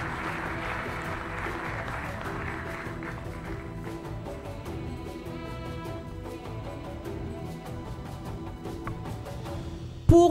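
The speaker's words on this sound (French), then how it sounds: "Sous vos applaudissements," Audience applause at a contest show during a cheque presentation, a steady moderate patter of clapping mixed with background music throughout, closing with a sharp loud knock.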